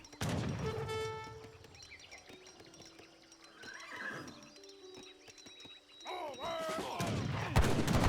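Musket volley gunfire in a real-time strategy battle in Age of Empires 3, a burst of crackling shots mixed with horse whinnies and battle noise, moderately loud with game music and effects throughout.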